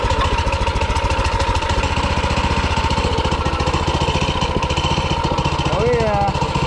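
A small minibike engine runs loud and close after its first startup, with a rapid steady chugging putter throughout and a voice briefly talking over it near the end.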